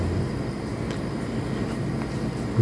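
A motorcycle engine idles steadily after running on engine oil past 3000 mileage, a continuous low rumbling drone with no talk over it.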